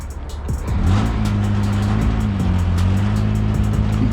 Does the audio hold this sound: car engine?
yes